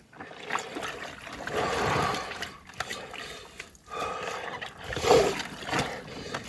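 Water sloshing and splashing in bursts as laundry is washed by hand outdoors while RV camping, with swells of churning liquid separated by quieter pauses, moderately close.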